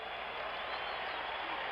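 Basketball arena crowd at an NBA Finals championship game roaring and applauding, a dense, steady wash of cheering and clapping that fills the space throughout.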